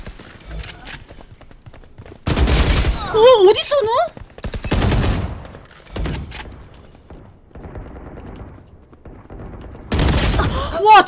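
Bursts of automatic gunfire from the video game Valorant come in several loud volleys with single shots between them, while a voice cries out over part of it.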